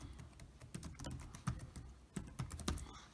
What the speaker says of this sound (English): just typing in the file name that you would like it to be